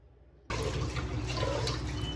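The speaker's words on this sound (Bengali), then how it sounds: "আমি এই দুধের পাতিলটা আর এগুলো ধুয়ে নিই" Running water gushes loudly and steadily from a tap as a milk pot and dishes are washed, starting abruptly after a brief quiet moment, with no voices.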